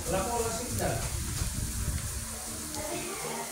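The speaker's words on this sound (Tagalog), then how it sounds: "At ito na po, gigisahin na po natin." Octopus sautéing in a pan for adobo in coconut milk, a steady close sizzle with stirring scrapes running underneath a person speaking throughout.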